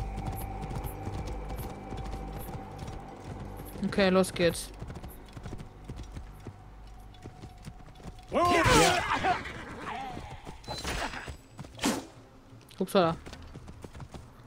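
Horse hooves clip-clop steadily in the Assassin's Creed Origins video game, a faint rhythmic trot beneath someone talking, broken by a few louder thuds and a whinny-like burst.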